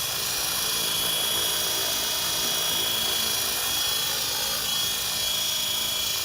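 An Align 450L RC helicopter hovers in flight, its rotor and motor giving a steady, high, whining buzz that stays constant throughout at close range with no other sounds.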